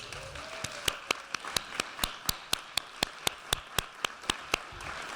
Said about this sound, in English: round of applause for my board